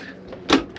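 A small plastic catch on the fridge door of an Elddis Flyte 145 caravan is pressed in, giving a brief click followed by a second, softer clack, close up and without talk.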